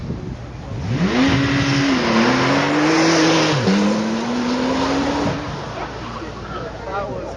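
A supercar launches hard from a standing start at a hill event, its engine loud and near as revs climb and drop through quick gear shifts, with a voice talking over it.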